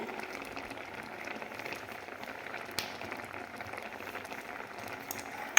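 Green mango pieces simmer in a small amount of water in a pot for a Tamil mango pachadi, giving a steady, soft bubbling and fizzing, faint and close, with a few light clicks.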